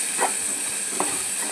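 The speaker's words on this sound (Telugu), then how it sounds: "చూడండి కుటకుటలాడుతుంది" Capsicum and sesame-powder gravy curry bubbling in a pan, a steady close hiss and sizzle with a couple of soft pops.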